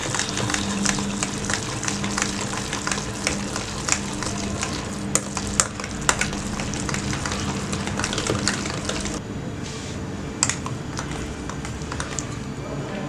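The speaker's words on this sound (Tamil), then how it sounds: "நல்லா இது மாதிரி ஒரு விஸ்க் வச்சு நல்லா கலக்கிடுங்க." Yogurt being whisked by hand in a bowl for fruit yogurt, a steady run of soft scraping and tapping strokes throughout, with a few sharper clicks and faint background hum.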